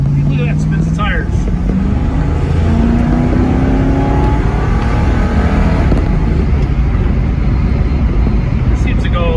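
A 1967 Ford Mustang engine accelerates hard with spinning tires, its loud, close roar rising in pitch over several seconds as the revs climb, with no talk.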